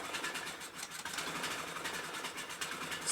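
A Troy-Bilt Super Bronco 17.5 HP lawn tractor engine idles at lowest throttle, running lean and starved for fuel, with a steady, close, slightly uneven rapid chugging and no voices.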